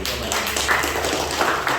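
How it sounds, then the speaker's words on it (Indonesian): Audience applause at a university lecture on drug dependence, a short burst of many hands clapping at moderate loudness, fairly close and steady for under two seconds. "Nah, tepuk tangan dulu dong."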